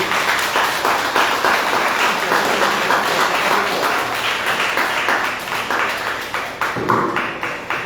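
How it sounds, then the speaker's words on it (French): Sustained applause from a church congregation, dense and steady at moderate loudness for the whole stretch, thinning slightly near the end. "notre applaudissement"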